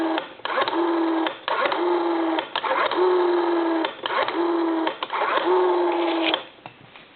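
Busy signal on a Western Electric 302 desk telephone wired through a Bell space saver box: a steady low tone pulsing on and off in even bursts, about five cycles, loud and close with no talk.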